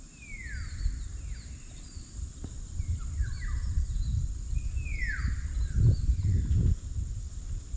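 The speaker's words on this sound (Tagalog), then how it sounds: "Daming ibon sa taas, oh." Small birds chirp in treetops outdoors during autumn, giving a series of clear downward-sweeping calls at moderate distance over a low rumbling background with occasional handling noise.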